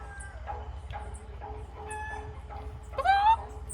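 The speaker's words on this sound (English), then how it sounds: "It's a chicken." A rooster in Negril, Jamaica, crows once near the end of the clip after some scattered clucks and bird calls over a low outdoor rumble.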